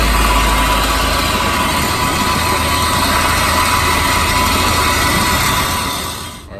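Truck engine with an X pipe feeding dual Flowmaster Super 10 mufflers, idling close up with a loud, steady, deep exhaust rumble that holds for several seconds before cutting off at the end, with no talking.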